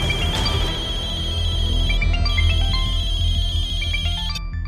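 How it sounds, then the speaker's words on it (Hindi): A mobile phone ringing with a bright electronic ringtone melody, loud and close, playing continuously over a low background hum with no talking. "जब मैं किसी को फोन करूं तो वो उठाता नहीं है, और अभी टे टे टे टे टे टे करके बज रहा है।"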